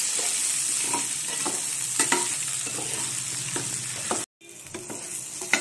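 Okra frying in oil with turmeric and salt, a close steady sizzle punctuated by stirring scrapes, briefly cut off then resuming, with no talking.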